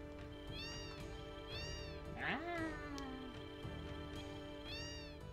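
Repeated cat meows from Final Fantasy VII sound at a steady rhythm over game music, joined midway by a brief voice that slides up and down in a playful meow-like imitation.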